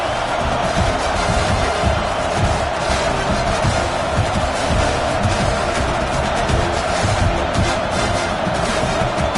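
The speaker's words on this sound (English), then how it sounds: "this crowd is fired up. Listen to this noise here" A dense, roaring football stadium crowd fills the whole stretch, loud and steady with scattered shouts and bangs, a packed home crowd cheering.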